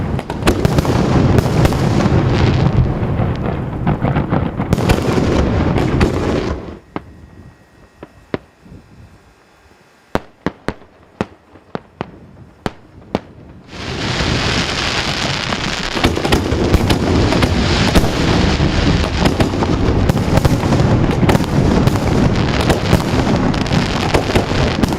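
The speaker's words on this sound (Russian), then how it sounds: "небо Грозного озарили огни грандиозного салюта" A grand fireworks salute bursts over Grozny: dense rapid crackling and booming volleys, a brief lull with scattered sharp bangs, then another sustained loud barrage.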